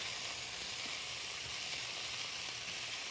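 Food sizzles in a heating pan, a soft, steady frying hiss that stays even throughout with faint low rumbles beneath and no talk.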